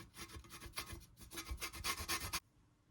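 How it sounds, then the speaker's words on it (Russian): Lemon zest is rubbed off on a small hand grater into a cake mixture: a quick series of close, scratchy rasping strokes in an uneven rhythm, stopping abruptly. "Натираем в нашу смесь цедру 1 лимончика. Вот на такой маленькой терке."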